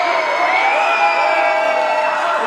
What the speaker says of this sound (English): some of these fans are extremely loud